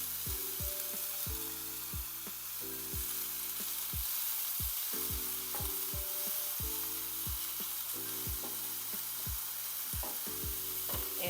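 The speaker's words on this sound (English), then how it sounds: "we're just gonna cook the mushrooms down to get them a little soft" Mushrooms fry in a pan with a steady close sizzle, broken up by regular scraping and knocking as they are stirred, with no talking.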